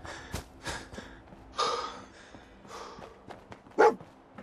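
Dogmeat, the dog in Fallout 4, gives a series of quiet sniffs, snorts and short huffs, ending in one sharper bark-like yip, all close and without talk.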